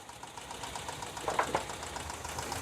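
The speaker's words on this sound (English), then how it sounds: "It's idling on its own now." A rough, uneven engine of a 1984 Toyota pickup running on three cylinders idles steadily with a low knocking pulse, fairly quiet and continuous with no voices.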